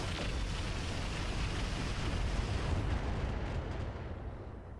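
Mech weapons fire in the BattleTech strategy game Roguetech: a dense, continuous roar of overlapping blasts and explosions, loud and unbroken, easing slightly at the end.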